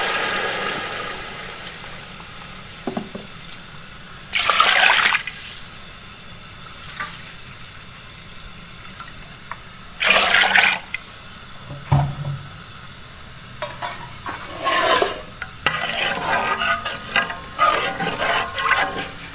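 Water is poured in splashing bursts into a large pot of rice for chana daal pulao, several separate pours over a steady kitchen hiss, close and fairly loud.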